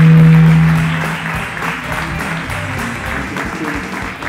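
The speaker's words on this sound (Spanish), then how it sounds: "Le vais a recibir con un aplauso injustificado, o sea, inmerecido, pero exagerado, de esos que duelen las manos" Audience applause at a Big Van science comedy show, a loud burst of clapping from a crowd that fades slightly and continues steadily throughout.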